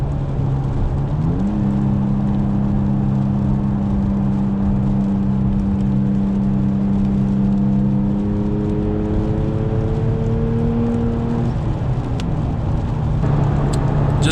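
Steady engine drone inside the cabin of a 2017 third-generation Toyota Tacoma TRD Off-Road Access Cab with sound deadening, cruising in 3rd gear near 62 mph at just under 3,000 RPM, with a slight rise in pitch before easing back.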